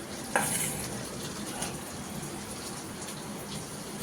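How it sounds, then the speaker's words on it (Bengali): Shrimp and jute leaves cook in a pan with a steady, close frying sizzle and occasional stirring scrapes, continuous for a few seconds with no talking. "এইদিকে হচ্ছে পাট শাক দিয়ে চিংড়ি মাছ দিয়ে রান্না হচ্ছে"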